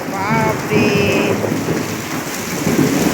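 A thunderstorm with heavy rain pours down steadily and loud throughout, with rumbling thunder underneath and a few brief high tonal sounds near the start.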